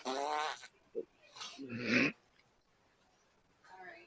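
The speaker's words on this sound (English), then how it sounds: "she just did a drive-by farting" A short fart from a woman, a brief low rumbling burst amid scattered voices and breathy noises, fairly close and soft.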